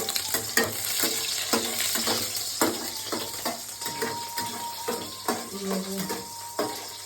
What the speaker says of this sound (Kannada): ಸ್ವಲ್ಪ ಈರುಳ್ಳಿ ಚೆನ್ನಾಗಿ ಫ್ರೈ ಮಾಡ್ಕೋಬೇಕು ಗೋಲ್ಡನ್